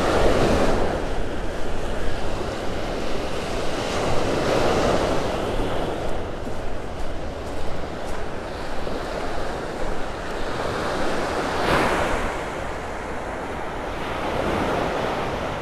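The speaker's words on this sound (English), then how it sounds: "these little waves rolling over the sandbar" Small ocean waves roll over a sandbar at Vanderbilt Beach in North Naples, Florida, making a steady, close wash of surf with gentle swells and some wind rumble against the microphone.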